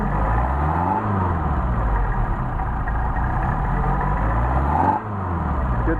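A car engine rises from idle as it accelerates, pitch climbing and falling twice in swells near the start and end, a close, continuous mechanical drone without talk.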